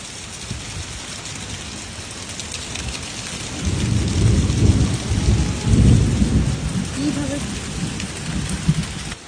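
A thunderstorm with steady rain pattering down and deep thunder rumbling in, swelling loudest through the middle before easing into a lighter roll, with no voices.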